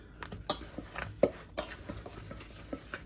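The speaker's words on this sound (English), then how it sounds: "Then we're just gonna mix this together." A fork or spatula scrapes and taps against a bowl while flour for a strawberry peach crisp topping is stirred, giving scattered light clicks and soft scraping at an uneven rhythm.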